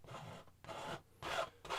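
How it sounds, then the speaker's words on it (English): Oil paint scraped onto a canvas in a beginner landscape painting, four short close rasping strokes separated by brief pauses, soft and intimate with no talking. "Let's go ahead and scrape these little details in over here."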